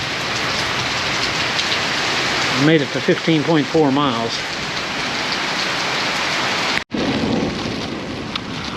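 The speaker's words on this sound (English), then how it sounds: "You can see the rain coming down." Rain falls steadily with a windy hiss, outdoors during a long walk or run, a constant wash of noise under a brief spoken remark, followed by a sharp knock near the end.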